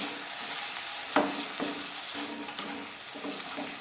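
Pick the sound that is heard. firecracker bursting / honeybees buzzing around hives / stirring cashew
stirring cashew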